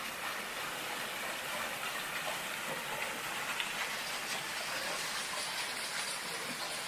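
Steady roar of a waterfall pouring in icy winter conditions along the trail from Muker to Keld, a dense, unbroken rush of water heard close by with no talking.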